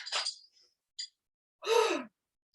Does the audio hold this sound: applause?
no